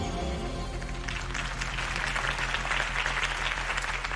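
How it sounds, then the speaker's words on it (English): Crowd applause at a political campaign rally in the Batman Telltale video game, a steady wash of clapping that swells after the first second and continues over low musical tones for the rest of the clip. "If only Mr. Wayne, my campaign's largest backer, could have heard that applause"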